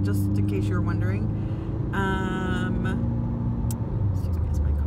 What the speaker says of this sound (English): as my car revs up